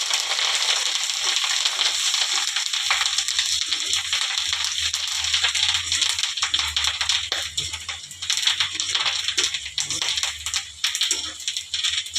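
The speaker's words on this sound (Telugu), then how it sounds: "ఇలా బెండకాయలన్నీ ఫ్రై చేసుకోవడం అయిపోయాక లాస్ట్ టర్న్ పైన ఇలా కల్యమాకు వేసుకోవాలి" Curry leaves frying with okra pieces in a pan, a loud continuous crackling sizzle with occasional sharper pops and stirring scrapes, close and steady with no talking.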